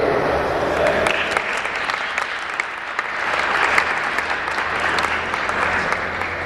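An audience at a Holocaust remembrance talk claps steadily and fairly loudly for several seconds in a sustained burst of applause.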